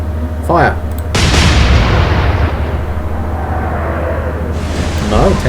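Warship guns firing in the Atlantic Fleet naval video game: a single heavy, loud blast booms out and rumbles away slowly over several seconds, with a voice briefly before and after.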